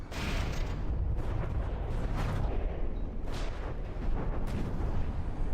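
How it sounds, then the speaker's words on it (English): CRAM weapon explosions in a vehicle combat video game rumble in a dense, continuous barrage of deep booms and blasts, loud and heavy throughout with no talking. "I like how the cram explosions exploding behind or close to a craft basically makes it fly up a little bit in the air"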